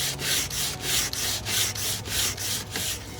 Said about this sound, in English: I've got this sanding block here with a new piece of sandpaper on it.